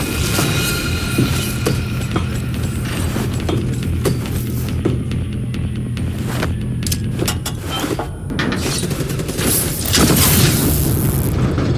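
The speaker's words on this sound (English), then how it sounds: "Get close and drop another frag in the core!" Frag grenade detonating in a core in the Call of Duty Black Ops 3 campaign, a heavy boom within a loud wash of game combat, rumble and mechanical noise, with short sharp impacts scattered throughout.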